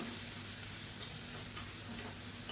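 Green chilli, garlic and pepper paste sautéing in a pan, a steady soft sizzle with faint stirring scrapes, constant and close, with no talk.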